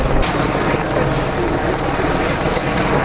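A helicopter performs at an air show in Cholet, its loud, steady rotor and engine roar filling the whole stretch without a break.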